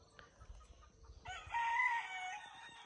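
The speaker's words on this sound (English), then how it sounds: "Can you hear the neighbor's chickens and roosters?" Neighborhood chickens and roosters in Puerto Rico on an early morning: a rooster's crow rises clearly but somewhat distant over faint outdoor ambience and scattered clucking.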